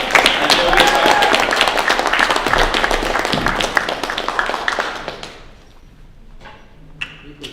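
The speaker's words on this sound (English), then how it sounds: "big round of applause here, Honolulu" Audience in Honolulu applauding loudly with dense sustained clapping that tapers off after several seconds, leaving a few scattered claps and murmurs.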